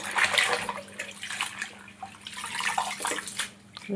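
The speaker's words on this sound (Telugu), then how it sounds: "ఫస్ట్ గోంగూరను అయితే ఇలాగ వాటర్తో 2-3 సార్లు అయితే క్లీన్ చేసుకోవాలండి" Gongura leaves are rinsed by hand in a vessel of water, giving sloshing, splashing washes that come in uneven surges close by.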